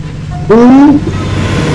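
A loud rumbling engine drone with a rising tonal whine briefly cutting through, a Thomas-style train passing close by in the Roblox game The Tunnel.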